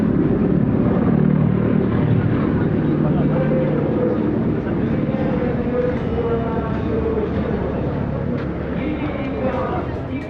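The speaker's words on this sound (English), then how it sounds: "All Mi-28s in the Beerkut team are standard surface helicopters from Torzok Air Base" Mi-28 attack helicopters flying in an aerobatic team display at an air show, a dense continuous rotor and engine rumble filling the whole stretch, loud and steady, with talk mixed in over it.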